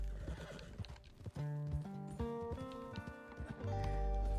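A horse in the video game Red Dead Redemption 2 whinnies with a long, wavering neigh, accompanied by rhythmic clopping hooves and a low rumble at the end.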